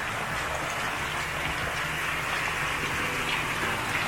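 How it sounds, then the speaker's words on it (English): Steady, heavy rain pours down continuously, a dense hiss of drops drumming on surfaces with no voices. "it starts pouring down rain"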